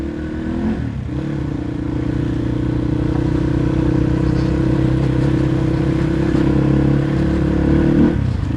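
A motorcycle rides on the road to Dhulikhel with a loud, steady engine drone close by. The engine note shifts near the start and again at the end, and wind and road rumble run underneath without any talk.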